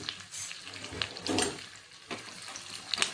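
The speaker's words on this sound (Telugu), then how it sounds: "కరివేపాకు, ఇదంతా కొంచెం వేగిన తర్వాత" Curry leaves spitting and crackling in hot oil, a close, moderate sizzle with scattered sharp pops and a brief stir, no voices.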